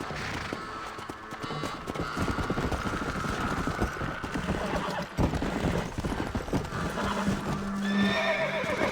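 Horse galloping and neighing in the video game Red Dead Redemption, with rapid hoofbeats throughout and loud whinnies, while a voice talks faintly underneath.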